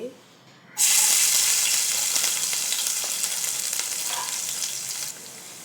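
Cumin and finely chopped onion hitting hot oil in a pressure cooker, a sudden loud burst of sizzling that stays strong and close for several seconds, then drops away.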